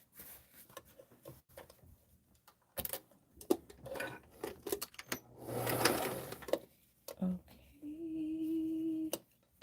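A sewing machine stitches along the edge of a padded dress form cover, running in short bursts and then a steady longer run close by, with handling clatter between stretches and a voice talking at times.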